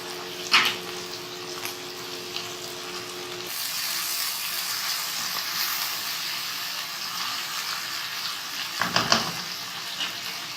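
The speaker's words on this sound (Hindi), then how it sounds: "टमाटर और प्याज को फ्राई करना है।" Tomatoes and onions frying with ginger-garlic paste for egg biryani, a steady close sizzle and hiss that swells louder partway through, with a brief stir or clatter near the end.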